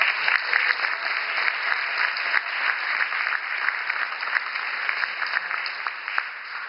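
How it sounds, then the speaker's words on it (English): A gala audience at the Jefferson Awards in Chicago gives a steady round of applause, dense and fairly loud clapping that holds evenly for several seconds before easing slightly at the end, with no voices over it. "Give Elizabeth a round of applause."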